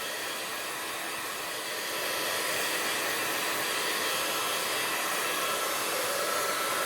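A heat tool blows steadily to dry gesso on a stamping craft project, a continuous loud whooshing hum that steps up slightly in intensity partway through, with no talking.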